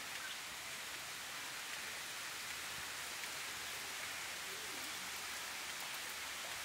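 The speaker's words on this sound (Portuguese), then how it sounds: "o toró tá caindo" Heavy rain pours steadily in the Pernambuco backcountry of Brazil at the foot of a mountain range, a dense, even hiss of downpour with no breaks, without voices.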